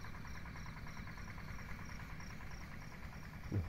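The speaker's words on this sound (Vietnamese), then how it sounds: "Ở dưới kia máy nổ nha mọi người." An engine running at night on a coffee farm, heard from some distance below as a faint, steady idling drone with a regular pulsing throb, alone with no talk.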